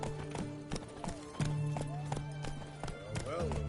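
Horse hooves clop in a steady, rhythmic gait in The Witcher 3, close and distinct, with a few tonal game sounds and a brief whinny-like sweep near the end.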